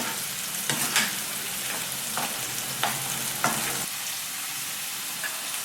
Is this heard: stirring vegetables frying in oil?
yes